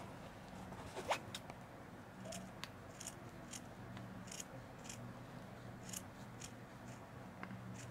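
Scissors snipping excess fabric from a handmade hair iron cover, a series of quiet, close crisp cuts spaced irregularly over a soft background.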